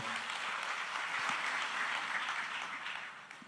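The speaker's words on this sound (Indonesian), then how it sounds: "Joko Widodo beserta Ibu Negara Ibu Iriana, tepuk tangan untuk beliau" Applause from a large crowd at an inauguration ceremony for President Joko Widodo at Pura Agung Besakih temple, a dense steady clatter of clapping that holds for a few seconds and then begins to fade.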